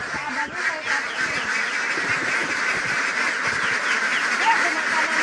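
Many ducks on a duck farm quack and honk continuously in a dense flock chorus, with people talking faintly in the background.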